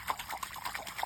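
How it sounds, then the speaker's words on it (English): Water splashed by hand at the edge of crocodile habitat in Australia, a quick series of light, close sloshing slaps in an uneven rhythm, with no voices. "all I need to do is splash"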